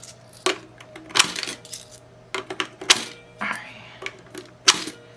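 Quarters clinking and jingling as they are handled, in a string of sharp metallic bursts with short quiet gaps between them, close and fairly loud.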